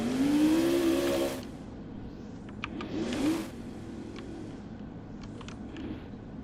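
A monster truck engine in the Roblox Monster Jam video game screams at high revs at the start, then drops to a lower drone with a brief second rev surge and faint clicks.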